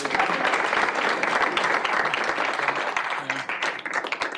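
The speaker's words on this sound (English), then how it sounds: "Round of applause for Nate, everybody" An audience applauds a state representative at a civic club meeting, with dense, steady clapping that holds loud and continuous before thinning slightly near the end.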